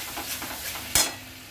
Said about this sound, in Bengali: সব কিছু দিয়ে এখন আমি কষতে থাকবো।